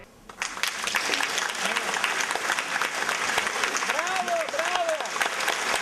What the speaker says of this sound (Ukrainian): А всіх артистів глядачі проводжають дружніми оплесками